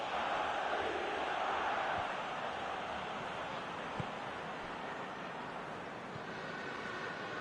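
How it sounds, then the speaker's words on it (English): A large football stadium crowd at a Liverpool match, a broad steady roar of cheering that swells early and holds on without a break, with no commentary over it. "at least the crowd are appreciative of his efforts"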